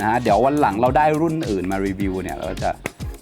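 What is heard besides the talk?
No everyday noises stand out.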